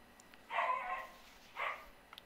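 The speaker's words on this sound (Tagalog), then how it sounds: "At nakisali pa ang aming aso sa aso ng aming kapitbahay." Two dogs, a household dog and a neighbour's dog, let out two short barking bursts about a second apart. The barks are moderately loud against a quiet background.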